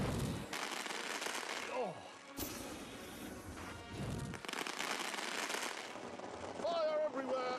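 Fireworks in the Grand Tour game burst in sharp, crashing bangs with fizzing tails, several in succession, while voices speak over the noise.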